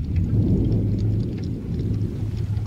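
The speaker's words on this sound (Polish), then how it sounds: "To huk idzie po błyskawicy." Heavy thunder rolls in a long low rumble right after a lightning flash during a storm, steady and loud throughout with a faint patter of rain and no voices.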